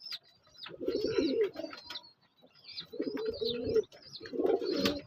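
Pigeons coo in a low, throaty rolling pattern, three bursts spaced across a few seconds, close by, with faint higher chirps between them and no talking.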